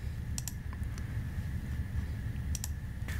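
Faint computer mouse clicks in GoPxL software, a pair of quick taps followed by a single one and another pair, all over a low steady background hum.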